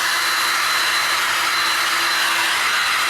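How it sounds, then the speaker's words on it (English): Heat gun blowing steadily on poured epoxy on glass, a continuous loud close airy roar with a faint motor whine, no pauses. "the main way I'm going to move this is with my heat gun."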